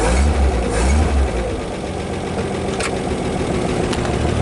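A 1939 Chevrolet Master 85 barn-find engine, running after 48 years with unadjusted valves, gets some gas: a loud, close rumble that swells early, then settles into a steady, even running note.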